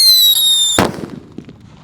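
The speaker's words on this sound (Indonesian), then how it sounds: "Kita nyalakan Jumbo Whistling Thunder." A Jumbo Whistling Thunder firework shrieks with a steady high whistle for under a second, then bursts in a single loud, close bang followed by a crackling, fading tail.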